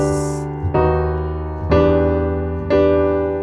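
Piano playing a line of a song: four sustained chords struck about a second apart, each ringing with rich low tones and slowly decaying, played alone up close.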